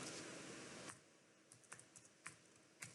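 Computer keyboard typing, very quiet: a few separate key clicks spaced irregularly after a short stretch of background hiss.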